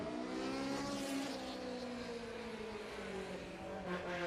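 Race car with a Honda S2000 engine at the Historic Leyburn Sprints in Australia, a loud continuous engine note with rising and falling harmonics as it revs and pulls away, close by and alone.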